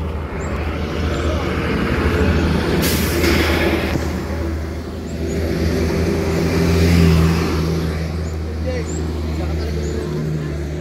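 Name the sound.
car engine revving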